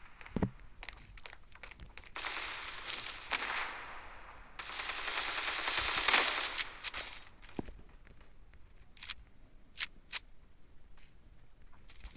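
In the mobile shooter Standoff 2, a SPAS-12 shotgun fires several sharp shots, one early and others scattered later, over bursts of noisy gameplay sound and footsteps, all fairly quiet.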